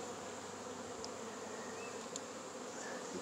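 Honey bees buzzing inside a hive full of capped honey in Fairplay, Maryland in February, a dense steady hum close by with a few sharper individual buzzes darting past.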